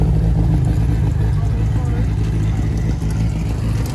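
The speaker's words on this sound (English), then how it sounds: "That is a big tire rotary motor." A big-tire car with a rotary engine runs close by at a steady, loud idle, with a deep, rumbling low drone throughout and a crowd talking over it.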